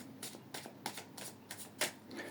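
Oracle cards shuffled by hand before a draw, a quiet run of soft papery riffles in quick bursts, about eight brushes over two seconds, close and alone with no talking.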